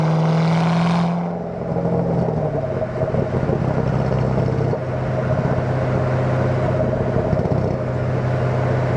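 A 2007 Ford Mustang Shelby GT500 with a catback exhaust drives down the road, its engine a steady loud drone with a deep low rumble and a brief change in pitch near the start, heard close from inside.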